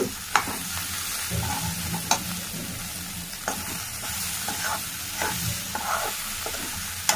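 A carrot, beans and peas fry is stirred in a pan: a continuous close sizzle with a spatula scraping and clinking against the pan at irregular intervals, and no talking.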